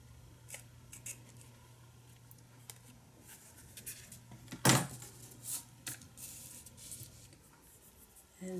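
Scissors trim a paper page in a junk journal: a few soft snips and rustles up close, one sharper cut standing out in a quiet room.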